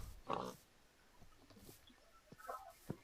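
Pigs in the video game Minecraft, a few short, faint grunting oinks scattered over the clip amid quiet game sounds, with people talking in Czech.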